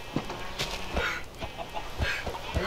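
Chickens in the Minecraft video game cluck in short, scattered bursts, fairly quiet and close, with no talk over them.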